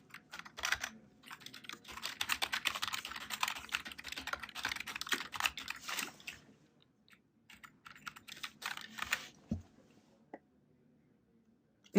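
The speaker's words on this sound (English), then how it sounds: "So we'll type in the URL." Quick bursts of keystrokes on a computer keyboard as a URL is typed in, steady runs of clicking with short pauses and a few isolated taps near the end.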